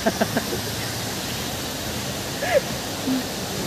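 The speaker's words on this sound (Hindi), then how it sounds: "ये यहाँ पर सिर्फ फाउंटेन है नॉर्मल और उसमें लाइट लगा हुआ है" An illuminated water fountain in Mumbai at night splashes in a steady, constant rush, with a few faint voices briefly heard over it.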